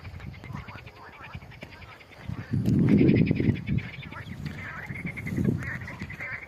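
Frogs croak loudly and repeatedly at a fish pond, in dense overlapping bursts that swell in the middle and again near the end.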